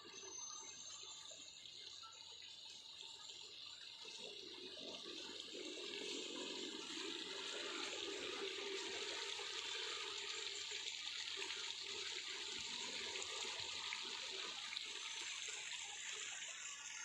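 A public water fountain in Menteng Park, Jakarta, runs steadily with a continuous rushing, splashing wash of water that swells slightly partway through, heard alone without talk.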